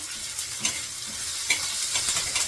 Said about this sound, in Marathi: त्यामध्ये हा मुळा चांगला जो किसून घेतलेला तो परतून घेते